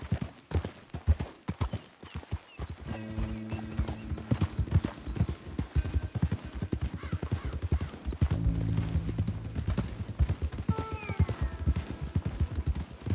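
Horse hooves clip-clop in a steady, fairly close rhythm on the ground in Red Dead Redemption 2, with a couple of brief whinny-like tones partway through and no talking over them.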